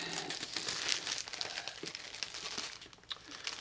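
Plastic wrapping crinkles and crumples continuously while being pulled off and balled up during a game unboxing, close and fairly loud, with no talking.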